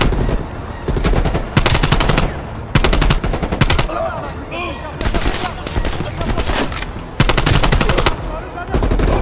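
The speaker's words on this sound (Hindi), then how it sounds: "इधर से गोली आ रही है भाई, चारों बाजू से गोली है." Heavy video game gunfire from all directions in Call of Duty Black Ops Cold War, loud continuous machine-gun bursts and shots with brief gaps, a voice talking excitedly over it.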